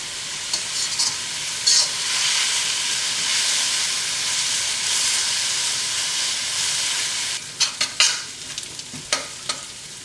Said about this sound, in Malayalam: കുറച്ച് ഉപ്പിട്ട് ഈ സവാള നന്നായിട്ട് കളർ മാറുന്നത് വരെ നമുക്കൊന്ന് മിക്സ് ചെയ്യാം